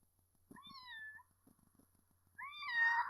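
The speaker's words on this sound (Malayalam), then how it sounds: "ആ .mp3 ഫയൽ 2 പ്രാവശ്യം പൂച്ച മ്യാവ് ചെയ്യുന്നുണ്ട്" A recorded cat meow plays from a phone app, two separate mewing calls with a pause between them, clear and close against a quiet background.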